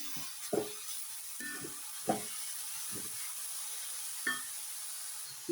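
Food being stirred in a very hot pan: a quiet, steady sizzle with a few brief scraping strokes spaced a second or two apart.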